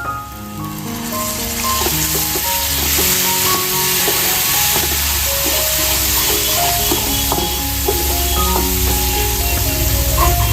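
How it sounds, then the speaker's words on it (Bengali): Spice paste for prawn bhuna sizzles loudly and continuously as it is sautéed in a pan, with occasional stirring scrapes and background music playing throughout. "যতক্ষণ না মশলা থেকে তেল ছাড়বে ততক্ষণ কিন্তু কষাতে হবে"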